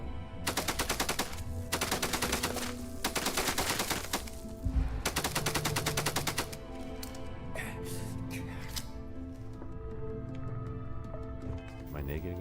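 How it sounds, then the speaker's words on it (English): A Rattler gun with a binary trigger firing in Starfield, heard as several very rapid, loud, close bursts in the first half, then quieter game sounds and music, with talk over it. "The Rattler with the binary trigger is faster than machine guns."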